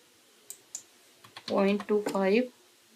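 A computer keyboard's enter key pressed during a jewellery pendant design session in Matrix software, two sharp isolated clicks followed by someone speaking close by.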